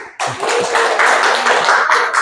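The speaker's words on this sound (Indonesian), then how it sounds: "Boleh minta tepuk tangannya dulu" Crowd applause from an audience at an Indonesian school talk on positive discipline, a dense steady patter of many hands that swells quickly and holds loud and continuous.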